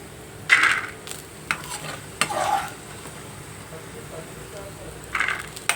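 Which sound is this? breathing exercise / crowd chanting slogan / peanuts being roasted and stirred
peanuts being roasted and stirred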